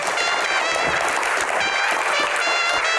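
A studio audience applauds a singer on an Indonesian talk show, with dense, steady clapping and cheering throughout and faint tonal music ringing above it.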